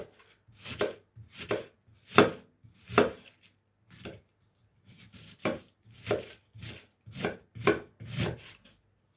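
Knife chopping red cabbage on a board for pickle, rhythmic crunchy cuts in two runs of steady strokes separated by a short pause, close and clear with no talking.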